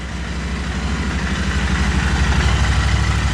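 Royal Enfield Continental GT 650 motorcycle idling after warm-up, a steady low thumping parallel-twin rhythm, close and continuous throughout, no voices.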